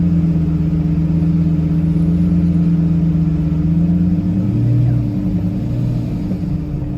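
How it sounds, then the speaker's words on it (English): A Lamborghini Gallardo Superleggera engine rumbles loudly and close at a steady idle, its pitch shifting slightly near the end, with people talking faintly in the background. "Rev it up, Paul."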